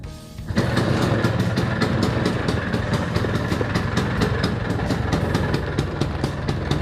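A Vespa scooter engine catches after a brief quiet start and settles into a loud, steady idle with a rapid, even pulsing beat that runs unbroken to the end, with no voices.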